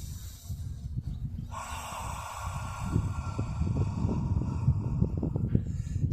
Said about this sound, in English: you can use the foggy breath, like you're breathing fog onto a pane of glass